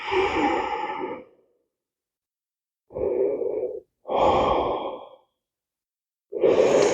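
Slow, deep exhales during a yoga session, each breath a soft whooshing sigh lasting about a second, close to the microphone and separated by stretches of silence, with no speech.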